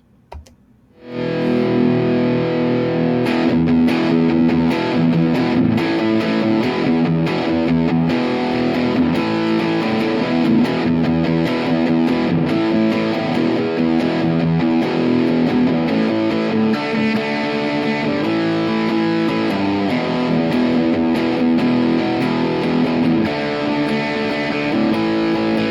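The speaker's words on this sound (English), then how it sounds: "We're going to start with the basic Blaxx Distortion, what they're calling the Distortion A" A Stratocaster electric guitar played through a Blaxx Distortion A pedal, giving a loud, sustained distorted tone with strummed chords and riffs that run steadily for the whole passage, with no talking.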